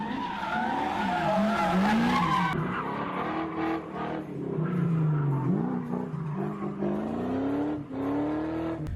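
A budget-built VIP show car drifts with tires squealing and skidding in long wavering screeches, while the engine revs and surges in between, fairly loud and close.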